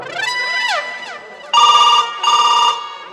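A telephone rings loudly with an electronic warbling ringtone, two long bursts of ringing following a rising and falling tonal pattern, close and clear in a village stage play setting.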